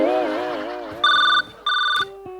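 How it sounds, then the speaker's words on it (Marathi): A telephone rings in an office with a short electronic ringtone made of two bursts, close and loud, following a sung melodic phrase at the start. "मॅडम फोन आला तुमचा"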